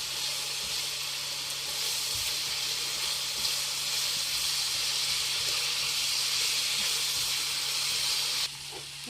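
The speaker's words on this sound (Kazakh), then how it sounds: "Сарымсағымызды и пиязымызды да салып, барлығын жақсылап туырып аламыз." Garlic and onions frying in a pan, giving a steady, even sizzling hiss that holds for several seconds before dropping slightly near the end.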